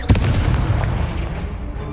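A Confringo fire spell bursts in Hogwarts Legacy, a sharp close blast at the start that rolls into a low, booming rumble and a long fading tail, with no voices over it.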